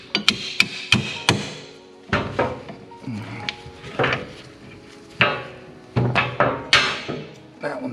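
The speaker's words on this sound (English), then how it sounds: "Get a little hammer, tap it out." Small hammer tapping a bolt out of a car's suspension control arm, a series of sharp metallic knocks in uneven bursts, loud and close.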